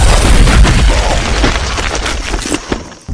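A loud, close dynamite blast from the horror film Wrong Turn 2 booms at once and fills the whole clip with a dense, roaring rumble that slowly thins out over about three seconds.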